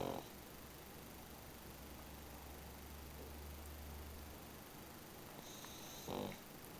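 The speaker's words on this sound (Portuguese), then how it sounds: "Como ele ronca, gente." A sleeping pug dog snores softly close by, a low steady rumble that lingers for several seconds before a brief snort near the end.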